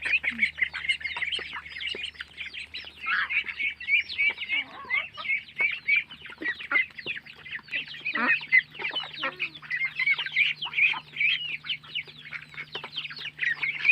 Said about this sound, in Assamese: প্ৰথমতে আমাৰ মৰমৰ কুকুৰা হাঁহ মোৰ মৰমৰ গঁৰালটিৰ পৰাই আৰম্ভ কৰিছোঁ ভিডিঅ'টো